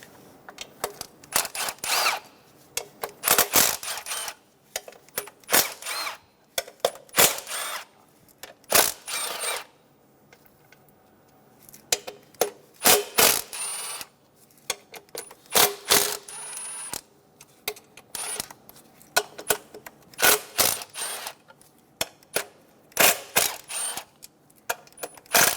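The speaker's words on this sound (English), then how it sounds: "Using a 10mm socket, remove all 12 fasteners for the plenum cover." A 10mm socket ratchet removing the twelve plenum cover fasteners on a 2003-2007 Honda Accord 3.0L V6, quick bursts of ratcheting clicks and metallic clatter separated by short pauses, close and fairly loud, no talk.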